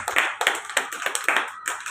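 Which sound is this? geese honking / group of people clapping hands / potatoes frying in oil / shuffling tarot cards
group of people clapping hands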